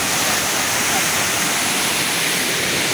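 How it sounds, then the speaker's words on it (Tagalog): Balagbag Falls pouring with heavy force, a constant thick roar of falling water that fills the scene steadily and loudly, close by, with no voices over it. "Falls po ito."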